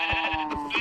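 A goat bleats in the Minecraft video game, several quick, wavering calls repeating over under a second, loud and close with no talk.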